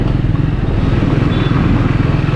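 A Triumph Scrambler 400X motorcycle engine thrums steadily at a busy festival-time junction, a loud close-up rumble with a low pulsing throb and no talking over it.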